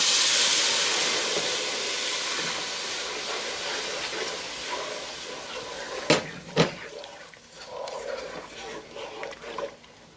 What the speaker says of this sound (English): Now I'm going to go ahead and add my coconut milk.